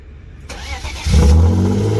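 A BMW drift car engine cranks and catches after a battery jump, a short whir that turns into a loud, close, deep idle with a quick rev, with no voices over it.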